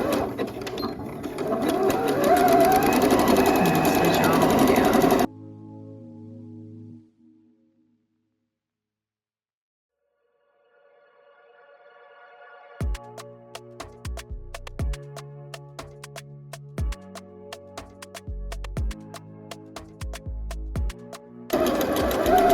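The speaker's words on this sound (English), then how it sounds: "I'm putting my machine to a zigzag stitch, 5/8 of an inch, and we're gonna go ahead and stitch and back stitch." A home sewing machine runs a 5/8-inch zigzag stitch and back stitch on a Butterick 6848 garment, whirring steadily before a quiet gap, then stopping and starting in short rhythmic bursts with clicks, close and alone.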